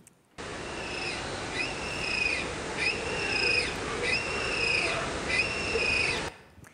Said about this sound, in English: what you hear there is a bird